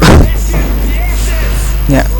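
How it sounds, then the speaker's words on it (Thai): Missile launch in the Kingdom Rush tower defense game: a short, loud burst opens the clip, and a second blast follows near the end over steady game background sound. "ไอ้อายิงมิสไซล์ไปแล้ว"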